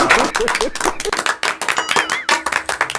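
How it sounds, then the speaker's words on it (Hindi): An audience claps to welcome a local political leader at a Republic Day comedy gathering, rapid uneven bursts of hand claps mixed with a person talking and calling out over them. "ताली बजा के स्वागत करो"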